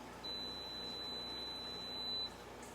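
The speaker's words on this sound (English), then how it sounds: "the timer just went off. Set point has been reached." A Hot Shot heat-treat oven timer gives one steady, high-pitched tone lasting about two seconds over a quiet background hum, then stops.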